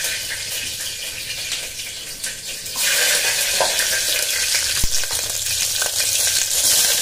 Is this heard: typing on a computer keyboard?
no